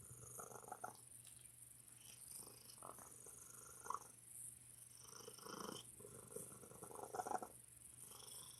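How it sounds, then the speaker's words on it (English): A cat purrs loudly and oddly, a rhythmic rumbling that rises and falls in repeated breathing cycles, heard up close and alone. "He's got the loudest and the weirdest purr I've ever heard."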